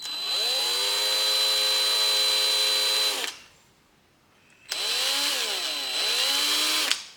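A small electric drill with a 1.5 mm bit whirs at a steady high pitch for a few seconds while drilling a homemade fishing lure, stops briefly, then runs again with its speed dipping and recovering.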